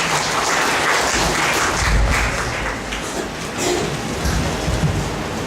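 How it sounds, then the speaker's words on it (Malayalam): An audience claps hands together at a church prayer gathering, a dense, loud, continuous patter of many hands with no pause throughout. "കൈയടിച്ച് ചേർത്താണ്."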